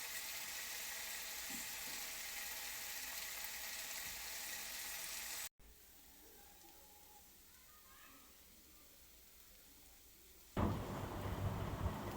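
Ghugni masala with garlic fries in oil, giving a faint, steady hissing sizzle that cuts out briefly, resumes more quietly, then swells into a louder crackle near the end.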